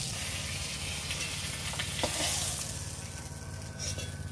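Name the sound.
small fish frying in oil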